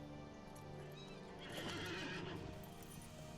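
A horse in the LOTRO video game whinnies over steady clip-clopping hooves, with a clear neigh rising in the middle against a constant game background.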